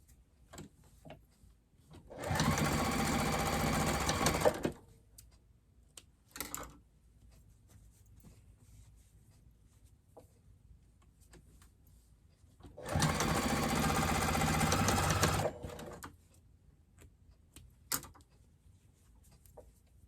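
A sewing machine stitches the sides of a fabric bowl cozy in two separate runs of a couple of seconds each, a quick even whirring chatter close by, with soft handling clicks in the quiet gaps.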